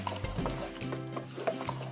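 Vegan Greek bouyiourdi is stirred in a pot with a utensil, producing a few quick scraping clinks and soft knocks over a couple of seconds, close and fairly quiet.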